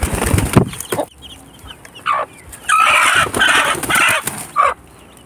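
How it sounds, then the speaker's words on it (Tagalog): A mother hen clucks in several short bursts near the listener, with broadband scratching and rustling between the calls. "kukuhanin na natin ang kanilang inahin"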